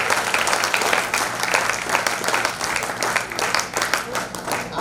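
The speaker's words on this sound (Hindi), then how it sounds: "गुरु जी के लिए, प्रभाकर राव वैद्य जी के लिए भाई जोरदार तालियां बजाएंगे।" Audience at an alumni meet giving a loud, sustained round of applause, a dense wash of clapping from many hands with faint crowd voices mixed in.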